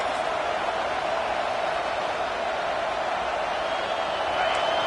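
A college football stadium crowd makes a continuous, even roar, a broad wash of many voices heard from within the stands, steady throughout with a slight swell near the end.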